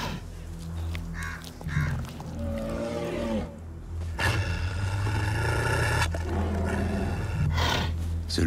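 A brown bear in the Alps roars and growls at close range, drawn by meat, with deep rumbling vocal bursts and panting filling the scene amid outdoor ambience.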